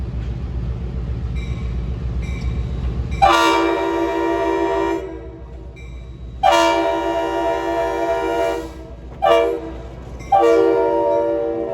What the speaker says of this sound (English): it's really cool to see a light engine move across the countryside